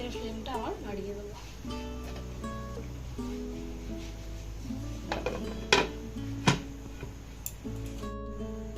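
A metal spoon stirs chicken biryani ingredients in a pot on a gas stove, giving a few sharp clinks and scrapes against the metal, close, under a steady hum and ongoing talk.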